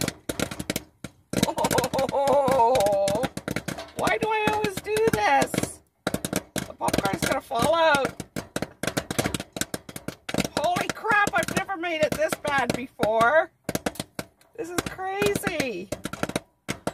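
Popcorn overfilling a brand-new pot pops in rapid, sharp bursts and crackles that keep going under a person talking throughout.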